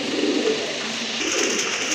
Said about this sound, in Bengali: মাশাল্লাহ আরেক জোড়া কবুতর আসছে এখানে